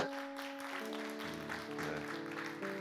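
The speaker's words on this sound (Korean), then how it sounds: "박수 소리로 몇 점을 줄 수 있는지 한번 박수 소리 한번 들어보겠습니다" A handful of young people at a church youth group's Sunday service clap briefly. The scattered applause mixes with sustained organ-like musical tones.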